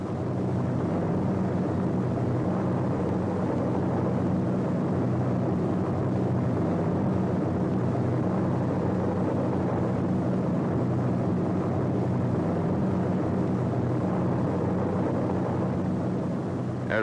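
Engines of C-47 tow planes drone over Normandy as they pull gliders, a dense steady roar with no break and no voices.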